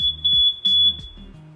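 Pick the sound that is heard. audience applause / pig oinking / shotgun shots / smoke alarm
smoke alarm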